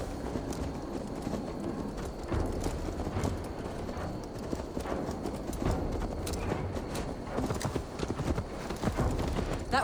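Horse hooves clip-clopping steadily at a walk in Assassin's Creed Valhalla, a continuous moderate rhythm of muffled thuds with faint background ambience.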